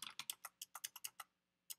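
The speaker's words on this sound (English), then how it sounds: "But my typing is not very good today." Keystrokes on a computer keyboard while a horse is registered on a show entry website, about a dozen quick irregular clicks in a fast burst, a short pause, then one final tap, close and fairly quiet.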